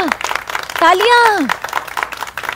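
Clapping from people in a scene of the Hindi comedy series Maddam Sir: scattered claps run steadily through the moment while a loud voice rises and falls over them.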